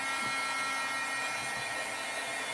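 A heat gun blows continuously while heat-setting white pigment on a handmade card, a loud, steady airy roar with no breaks.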